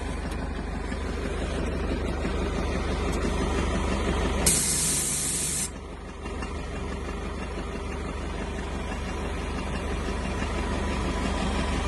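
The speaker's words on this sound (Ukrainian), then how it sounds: "гідронасосом прижимає і гідронасосом його піднімає" A tractor engine idles steadily while a hydraulic pump runs beneath it, pressing down and raising an implement, and a sharp hiss bursts out for about a second midway.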